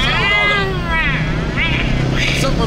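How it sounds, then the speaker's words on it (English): Motorcycles roar past with rising and falling engine whines, one after another, over a rumbling background and a passing voice. "What's up with all the motorcycles around here racing?"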